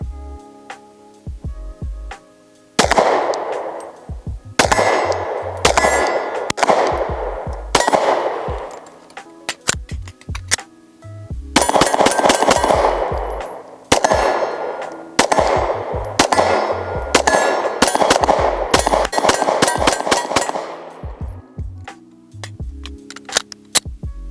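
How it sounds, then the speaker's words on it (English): Gunshots ring out against steel targets set at 10 and 25 out on a range. Each sharp report is followed by a bright metallic clang and ringing decay, fired in loud, irregularly spaced bursts with no talking. "We're gonna shoot these 5 rounds at these steel and then go from there."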